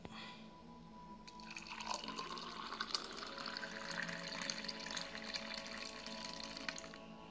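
Spiced buttermilk, freshly strained, is poured into a serving bowl: a steady, close liquid stream that begins after a brief pause and keeps running, its pitch rising slightly as the bowl fills.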